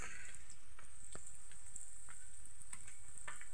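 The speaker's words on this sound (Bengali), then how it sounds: "এখন পনির ভাজা হচ্ছে।" Paneer fries in a pan, producing a quiet, steady sizzle with frequent light spitting crackles scattered across the few seconds, heard alone without speech.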